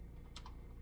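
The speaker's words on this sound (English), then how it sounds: "don't make fun of my typing, by the way, because I'm not good at it." A few soft keystrokes on a computer keyboard during a late-night math session, faint clicks over a steady hum, no talking.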